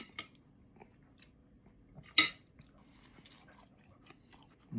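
Someone chews rice seasoned with crunchy garlic and chili oil, with soft crunches and mouth sounds close to the mic and one sharper bite standing out over quiet room noise.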